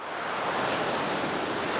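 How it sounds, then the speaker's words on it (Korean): Waves wash over a pebble beach on Geoje Island, South Korea, a close, steady broadband rush and hiss with the stones rolling under the surf, heard alone. "파도에 떠밀린 몽돌이 구르는 소리는 지금껏 들어보지 못한 독특한 소리로"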